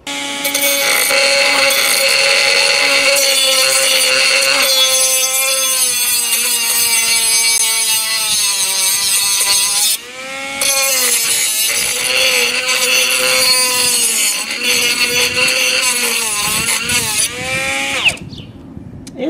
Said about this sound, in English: So let me run this for just a minute, and I'll come back after I have this ground down to some shiny metal.